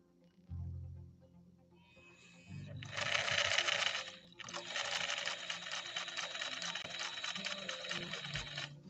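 A 1950s Pfaff 130-6 sewing machine zigzag stitching through two layers of vinyl, a low motor start followed by two bursts of fast, rattling needle clatter, moderately close.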